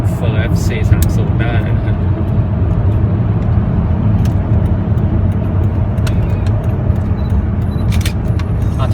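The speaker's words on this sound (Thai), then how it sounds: "โอ้โหแซงเฟอร์รารี่ F430 นะฮะ" A car overtakes a Ferrari F430 on a road in Thailand, heard as a loud, continuous engine and road rumble with a voice talking over it.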